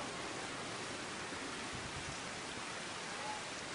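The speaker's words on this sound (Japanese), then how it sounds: "今雨降ってますよ。" Steady rainfall in the video game Final Fantasy XV, an even, dense hiss of falling rain that carries on without change, soft and unaccompanied by clear speech.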